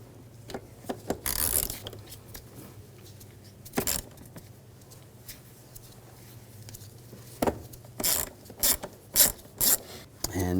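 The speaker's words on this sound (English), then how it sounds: "Using a T25 socket, take these two screws out." A T25 socket on a ratchet removes screws during spark plug replacement on a 2007-2013 BMW X5 3.0L inline-six, giving irregular close clicking, rattling and rubbing bursts that grow busier toward the end, with no talking.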